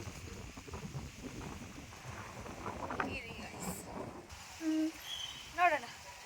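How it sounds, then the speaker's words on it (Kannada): Strong outdoor wind buffets the microphone with a steady low rumble under a faint voice. A couple of brief brighter sounds break through near the end. "ಬಟ್ ತುಂಬ ಗಾಳಿ ಇಲ್ಲಿ"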